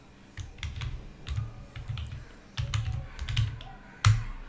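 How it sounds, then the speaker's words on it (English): Keys clatter on a computer keyboard as a command is typed into the Windows command prompt, irregular bursts of close clicks with brief pauses and a sharper final keystroke, no voice present. "just type mkdir, it is a make directory command in Windows command prompt"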